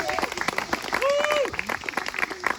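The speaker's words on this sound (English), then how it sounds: "How about another round of applause for Rob?" Audience applause at an operetta performance, a steady wash of clapping with a sung or whistled tone rising over it and voices mixed in, fairly loud throughout.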